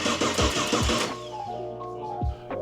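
A barn find car's engine cranks over with a few rhythmic starter churns, then fires and catches, settling into a running idle with a steady hum; a brief extra cranking pulse follows.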